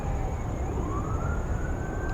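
Police car sirens wail from a distance, a steady rising and falling tone sustained across the whole stretch over outdoor traffic rumble, with no talking.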